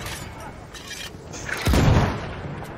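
A deep booming cannon blast goes off once in the video game Battlefield 1, over a background of continuous game noise and rumble.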